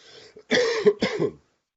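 A single heavy, chesty cough in two or three rough bursts, close and loud, with no talking around it.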